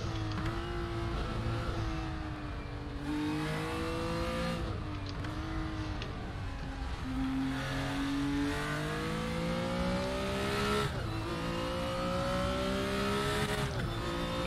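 A BMW M1 Procar in the RaceRoom racing game screams through its gears, the engine rising and falling continuously with shifts and brief tire scrubbing. It stays loud and steady throughout, with no voices.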